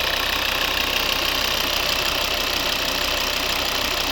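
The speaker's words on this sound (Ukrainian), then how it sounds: "Ось робота двигуна." A 2011 Volvo V60 2.0 D3 five-cylinder diesel engine idles steadily up close, with an even, rattly knocking rumble and no talking.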